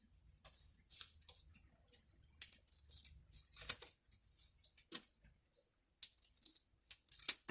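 Scissors cutting along a drawn line on paper, irregular crisp snips and slicing strokes close by, separated by brief quiet gaps, faint and intermittent.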